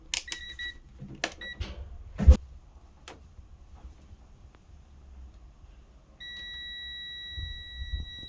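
Multimeter continuity test on parts of an LG washing machine showing an IE error: a steady electronic beep starts around six seconds and holds until the end, preceded by scattered clicks and handling knocks.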